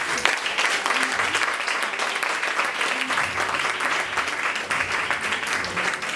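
Church congregation applauding together, a dense, steady wash of clapping that holds at even loudness throughout, with faint voices mixed underneath.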